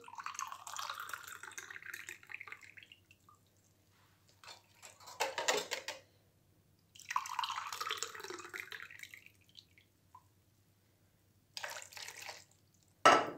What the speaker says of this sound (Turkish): Şimdi 2 su bardağı ılık suyumuzu leğenimize alalım.